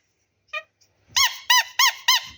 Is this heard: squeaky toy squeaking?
yes